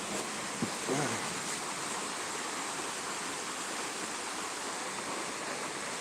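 Loud, steady rushing water from a creek fills the clip with broadband roar, close and constant, with a brief faint knock near the start.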